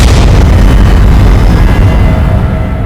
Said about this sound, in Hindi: मैंने भी उस कमरे से गोली चलने की आवाज सुनी थी